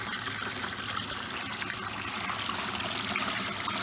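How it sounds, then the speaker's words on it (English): Water flows through a drain and pours down into a large hole near a pond, a steady close trickling splash that continues evenly without voices. "the water's coming through here, falling down in a big old hole"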